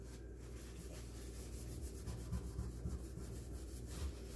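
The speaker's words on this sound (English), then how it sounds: "It's gonna take a little bit more scrubbing there." A paper napkin scrubbed against a stovetop gives a quiet, continuous rubbing and scraping, steady and close with slight rhythmic pulses, no voices over it.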